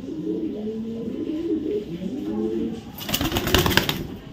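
A young male racing pigeon coos in low, repeated throaty phrases close by, followed near the end by a short burst of brighter, noisy flutter.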